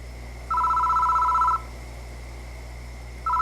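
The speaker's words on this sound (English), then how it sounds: "The phone is ringing." A telephone rings in a phone booth in the horror video game Death Mark, one long electronic ring burst followed by a pause and the start of another, clear and alone over a low ambient hum.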